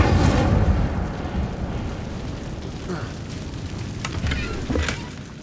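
Incendio fire spell cast in Hogwarts Legacy on PS5: a loud whooshing burst of flame at the start that rolls into a sustained crackling rumble, with a few sharp pops and flickers near the end.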